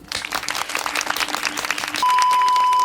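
Short round of applause from a small group, a loose crackle of clapping for about two seconds that cuts off abruptly into a steady electronic tone.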